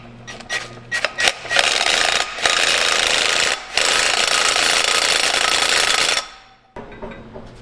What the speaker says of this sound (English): we're gonna throw this nut back on and torque it to,